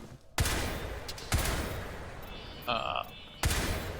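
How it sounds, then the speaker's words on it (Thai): Single semi-automatic shots fired in the video game Crysis 3, four loud separate reports spaced about a second apart, each with a decaying tail, and a brief electronic tone between them. "ยิงในโหมดแบบทีละนัดนะ ยิงทีละนัดนั่นเองนะ"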